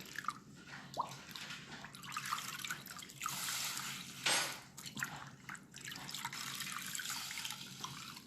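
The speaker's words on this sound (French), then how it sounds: "Et on va venir rincer." Tap water runs and trickles during a skincare rinse, with intermittent splashes and drips and a brief louder gush midway, all fairly quiet and close.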